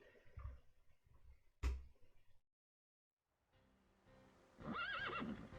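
Horses whinny in the video game Reverse 1999: a single rising, wavering neigh stands out near the end, after a sharp thud, scattered rustling hoofbeats and a brief silent gap.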